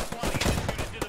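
Gunfire crackles loudly in a war video game, a dense run of rapid, overlapping shots with a few fainter pops mixed in.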